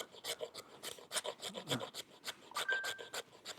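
A boot knife blade scraping fatwood in quick, rasping strokes that repeat in an irregular rhythm. The sound is close but quiet, with no talking.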